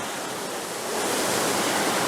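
A main waterfall in Wales after heavy rain roars as a steady, loud, broadband rush of falling water, close and continuous, swelling slightly halfway through, with no voices.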